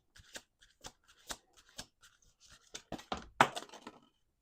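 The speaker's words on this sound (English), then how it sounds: "Two more shuffles." Soft, rapid riffling of tarot cards being shuffled, a series of quick flicks close by, ending in a louder snap as the deck comes together.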